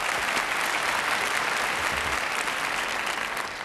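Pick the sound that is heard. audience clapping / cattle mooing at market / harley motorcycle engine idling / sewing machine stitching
audience clapping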